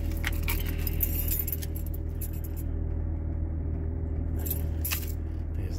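Car keys jangle and clink in the hand against a steady low hum of a Range Rover Vogue 3.0's compressor, with brief metallic bursts at the start and end.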